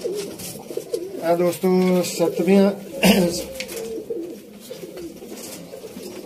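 Zeera pigeons coo in repeated throaty, rolling calls close by, while someone talks over them.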